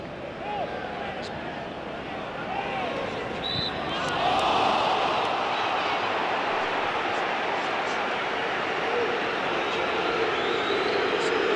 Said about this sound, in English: I think the crowd, you can hear the booing there